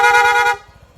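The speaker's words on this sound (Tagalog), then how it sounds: "Ayan, pag nilang press, magra-rapid." Bosch Evolution horn on a Voge SR150 GT motorcycle in rapid mode, a loud close blaring honk with a fast pulsing flutter for about half a second, then cutting off sharply to a low idling rumble.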